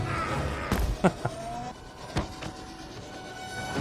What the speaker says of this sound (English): Oh. Train comes.